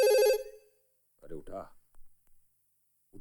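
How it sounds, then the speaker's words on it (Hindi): A telephone bell rings briefly and loudly, then stops, followed by a person speaking nearby. "ये फोन क्यों नहीं उठाते?"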